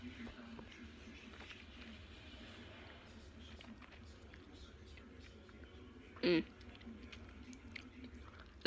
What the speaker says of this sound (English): It's actually starting to get hard to chew and talk.